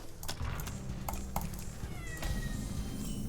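A house cat meows a few times close by, with drawn-out wavering calls over a steady low background hum.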